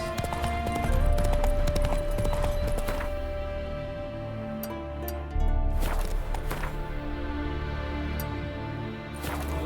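Horse hooves clip-clop steadily in The Witcher 3, a rhythmic run of close hoofbeats over a musical score, with harness jingles and a brief heavier thud midway.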